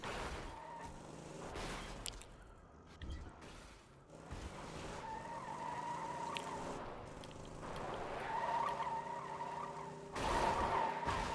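A truck drives and skids in the Borderlands 2 video game, with engine whine and repeated tire squeals rising and fading over about eleven seconds, loud and close, mixed with other game sounds.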